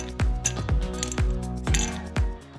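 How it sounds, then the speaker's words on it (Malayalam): Ice cubes drop one after another into a glass for a green mango aam panna drink, making about five sharp, close clinks with short ringing tails and no talking. "അതിനുശേഷം നമ്മൾ ഐസ് ക്യൂബ് ഇട്ട് കൊടുത്തു."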